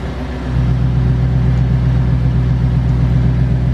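A Lexus ISF engine idling on a lift with its Xforce valved exhaust opened, a steady deep rumble that rises in volume after a brief quieter start and holds loud and constant.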